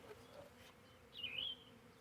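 Honey bee swarm buzzing as it is hived into a box, a faint steady hum that briefly rises into a louder, nearer buzz midway before settling back down.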